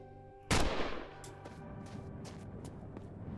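A single loud, sharp revolver gunshot in a video game, with a booming crack and a fading tail, followed by faint softer impacts under steady background game noise.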